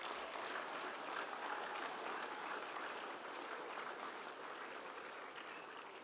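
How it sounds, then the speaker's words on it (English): School assembly audience applauding a student rock band after a song, a sustained even wash of clapping heard from a distance, faint and steady throughout. "I think they deserve another round of applause"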